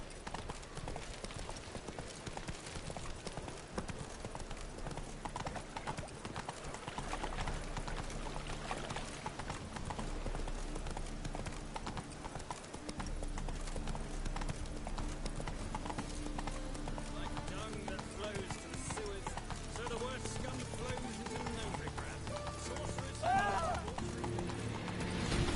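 Horse Roach from The Witcher 3 gallops with steady rhythmic hoofbeats, running continuously under game music and ambience, a brief whinny possible, with a voice speaking over it.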